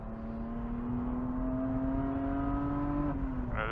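Race car engine at full throttle on Grattan Raceway, heard from inside the car: a loud, steady, high-pitched drone that holds pitch and then drops briefly near the end, as though from a gear change.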